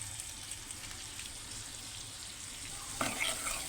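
Kochur loti with shrimp and ginger garlic paste stirred in a pan, a faint continuous sizzle with soft spatula scrapes and a brief louder clatter near the end.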